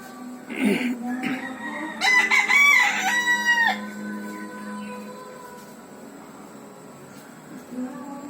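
A wild junglefowl and a white-eared Texas gamecock outdoors, with a loud nearby rooster crow, clucks and a few squawks, while low murmured talk runs underneath.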